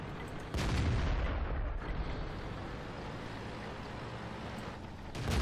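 A Jagdtiger tank destroyer's main gun fires once in World of Tanks, a loud booming blast followed by a long rumbling decay, with a second surge of noise near the end.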